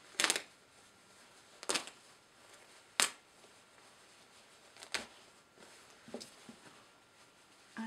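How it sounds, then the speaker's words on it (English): Lining gets torn out of a wool coat in several short, sharp ripping bursts separated by pauses, close and fairly crisp with no talk. "Get a few snips on this and tear it the rest of the way"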